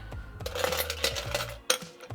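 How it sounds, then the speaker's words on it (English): Ice cubes clatter into a tall highball glass for a Collins cocktail, a quick run of close, bright clinks and rattles with a final sharp knock near the end. "Let's fill up this high bowl nicely with ice."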